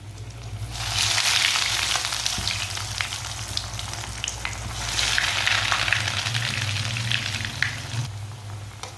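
Potato and chili pakora snacks frying in very hot oil, a steady dense sizzle and bubbling that swells and eases over several seconds, close and loud with no talk.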